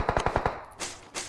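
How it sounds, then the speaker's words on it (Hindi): Gunfire in the PUBG video game: a quick burst of five sharp automatic shots, followed by two softer, hissing bursts trailing off. "बाहर से गन की आवाज़ आ रही है"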